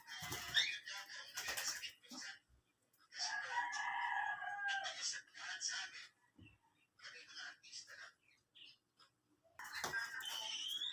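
A pet bird, apparently a chicken or rooster, gives a run of clucking calls and one longer crowing cry, close by, trading with a person talking gently to it.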